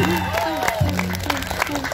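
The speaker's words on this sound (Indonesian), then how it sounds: "tepuk semua tepuk tangan." A crowd claps and cheers while a voice talks loudly over the noise at a singing event.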